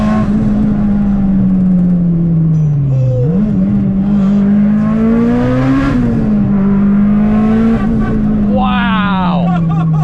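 An 800 wheel horsepower EVO 8 accelerates hard under boost, its engine note climbing and dipping through gear changes in a loud, continuous in-car drone.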